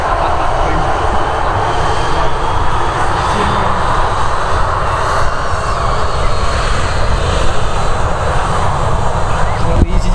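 An EasyJet airliner without winglets departs Manchester Airport, its engines producing a loud, sustained roar that fills the scene, with voices chatting over it.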